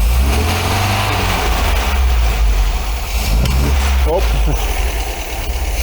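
An MGB engine idles steadily after a carburettor tune-up, a loud, continuous low rumble that fills the whole stretch with slight wavering and a brief voice exclamation partway through.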